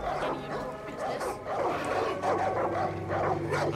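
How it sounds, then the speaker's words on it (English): Dogs barking, yipping and growling in the video game Far Cry 5, a steady run of sharp yelps and snarls up close over a continuous background game soundscape. "The dogs, you can hear them barking and growling"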